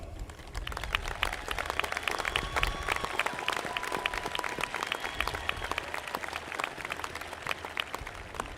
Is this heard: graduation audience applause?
yes